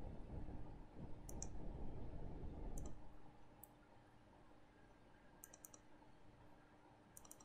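A computer mouse gives several faint, sharp clicks, some in quick pairs, over a low steady hum while a Windows Server is set up.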